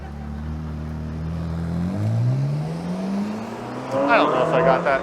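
A Ferrari sports car drives past on a Toronto street near the CN Tower, its engine tone rising and sweeping by, with a louder roaring burst near the end amid street ambience.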